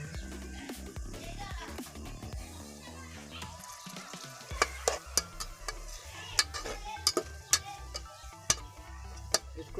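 Chopped green chillies sizzle steadily in a pan for a carrot, pea and potato curry, while a spoon scrapes and taps against the pan in sharp, irregular clicks. A voice speaks faintly underneath.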